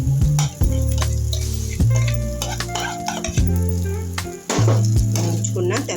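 Onions fried earlier are stirred back into a sizzling pan while cooking drumstick leaf chutney (mulaga aku pachadi). A loud, steady sizzle runs throughout with stirring and scraping noises, over a sustained tonal background.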